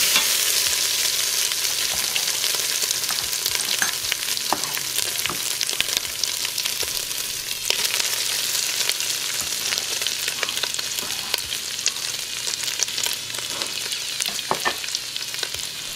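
Pork carnitas meat hits a hot Instant Pot and sizzles loudly and steadily, a dense close frying hiss with occasional crackles and stirring scrapes, no talking.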